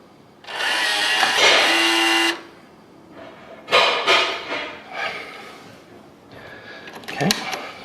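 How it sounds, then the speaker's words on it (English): A deadbolt on a sliding back door being locked, with a loud sustained grinding mechanical burst followed by several sharper clunks and rattles of the latch and frame, and one brief metallic clack near the end. "Lock the back door."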